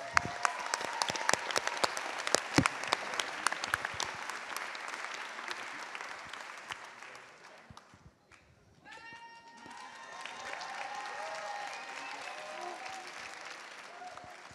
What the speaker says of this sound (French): on les applaudit bien fort